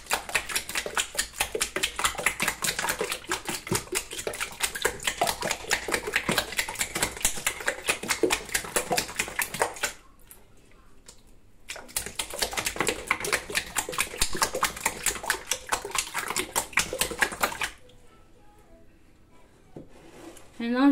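Rapid, steady rhythmic knocking as Cameroonian Nkui mixture, with clay-like texture, is beaten vigorously by hand, running in long loud bursts with a short pause between them.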